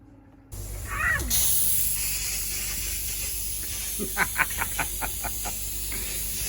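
Water from a lawn sprinkler system sprays and hisses steadily at close range during winterization, a broad rushing noise that starts abruptly and holds throughout, with a few short sharp bursts and chirps near the end.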